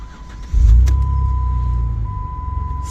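A 2010 Jeep Wrangler Rubicon with a 3.8 petrol engine starting: a brief crank catches into a deep, steady idle that rumbles on close by, with no talk.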